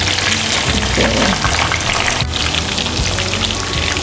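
Pieces of katla fish sizzle steadily in a pan of hot oil, a dense continuous crackle close up with a brief sharp clatter midway as they are turned to cook the other side.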